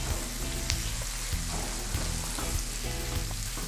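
Prawn head frying in a pan for coconut curry rice, a steady close sizzle with crackling pops running the whole time, no voices.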